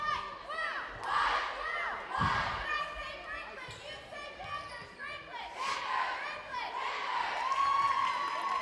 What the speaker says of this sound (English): Franklin faithful cheering on their team.